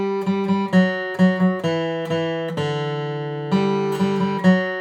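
Played twice in a row, the first phrase of the bluegrass tune Blackberry Blossom comes from a solo acoustic guitar, with crisp picked notes in a steady rhythm and a sustained note closing each pass, close and clear.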